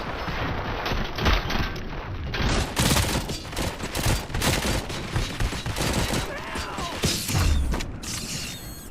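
Gunfire from the first-person shooter RoboCop: Rogue City: a dense stretch of rapid, overlapping shots and bursts with mechanical clanks and creaks, loud and close, continuing throughout with brief gaps.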